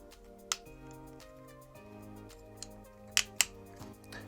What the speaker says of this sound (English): then you even got the clicking sound